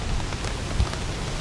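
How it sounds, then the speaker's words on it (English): Heavy rain pours steadily during a night of camping in Turkey, a dense, continuous wash of drops drumming on a surface nearby, with no voices. "as you can see, it's raining really hard"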